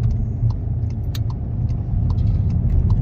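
A Cupra car rolls around a roundabout with a steady low engine and road rumble heard from inside, and faint light clicks and rattles sound above it.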